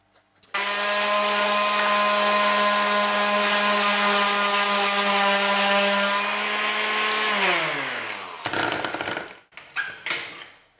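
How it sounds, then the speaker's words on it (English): An electric sander sands a guitar pedal light plate with a loud, sustained motor whine and a grinding rasp. Near the end the motor winds down, followed by a few brief bursts of scraping. "with an electric sander it's a bit easier"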